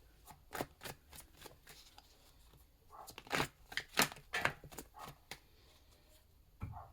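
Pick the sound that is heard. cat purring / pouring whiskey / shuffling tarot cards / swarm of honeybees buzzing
shuffling tarot cards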